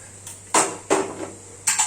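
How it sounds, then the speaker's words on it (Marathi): A pressure cooker is set down on a gas stove in a home kitchen, making a few sharp metallic clanks and knocks close by, separated by short pauses. "गॅस चालू झाला, कुकर ठेवूया"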